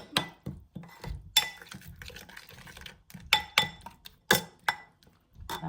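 A utensil stirring masala with garam masala and garlic-ginger paste in a pan for a homemade paneer dinner, making irregular sharp metallic clinks and scrapes, close and fairly loud, with quiet gaps between strokes.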